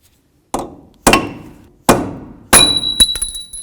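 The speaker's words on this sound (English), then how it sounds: "We want to go ahead and peen that nut down into the slot." Hammer blows peening a front axle nut into its slot on a 1998-2002 Honda Accord, four sharp metallic strikes with ringing decay, the last followed by quick rattling taps.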